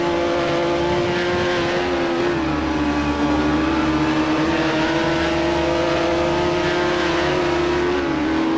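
An F1 car engine in the F1 Challenge video game droning at a high constant pitch against the rev limiter, loud and sustained, with a slight dip and wavering in tone midway.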